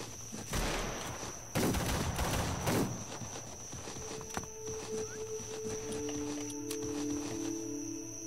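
Rifle fire rings out in a Roblox video game, a few loud bursts close together early on, followed by quieter rustling and steady electronic tones, with no talking.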